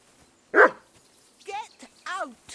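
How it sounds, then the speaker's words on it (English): A dog in the video game Kingdom Come: Deliverance 2 gives one loud, close bark, then two shorter yelping barks, with voices speaking around them. "Call off that dog"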